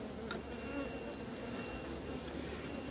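Honeybees buzzing in a divisible beehive during a hive inspection, a dense, steady hum close by with a brief tap near the start.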